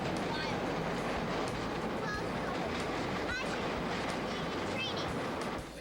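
A train rolls past at close range, a loud continuous rumble with rail clatter and squealing wheel tones that fills the whole stretch and fades slightly at the end.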